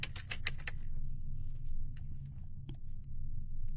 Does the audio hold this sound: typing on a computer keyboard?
yes